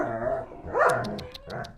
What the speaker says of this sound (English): It's very noisy in here. This is why we don't have the dogs outside with us.